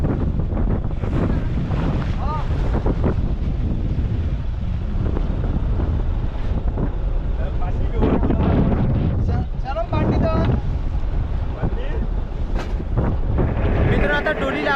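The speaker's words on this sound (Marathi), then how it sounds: "आज वारा खूप आहे एकदम बेकार वारा आहे" Strong wind buffets the microphone out on open water off Mumbai, with waves splashing and a fishing boat rocking; voices talk intermittently over the roar.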